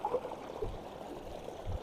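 Water flowing through a narrow gap at the Golpalli waterfalls, a steady pouring rush with no talk over it.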